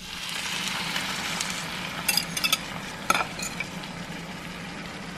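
Steady crackling sizzle of pork belly frying in a pan, with a few sharper pops and utensil clinks partway through; no talking.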